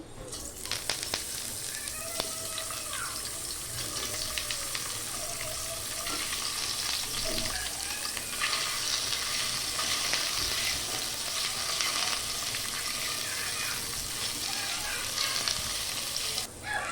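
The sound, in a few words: chicken balls frying in a little oil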